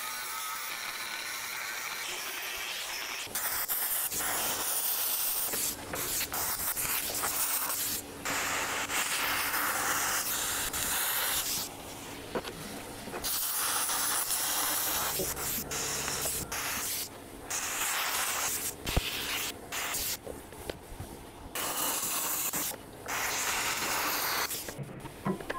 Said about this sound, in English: then I use the plasma cutter to do any of the curves or the radiuses in the corners